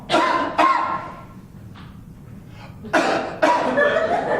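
Two pairs of coughs, each a quick double burst, close and loud with a quieter pause between them.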